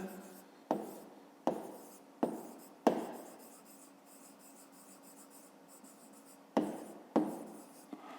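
Fifth-grade math equation being written out by hand: close, scratchy strokes with several sharp taps and bursts of quick scribbling, a longer steady stretch of writing in the middle, and no talk.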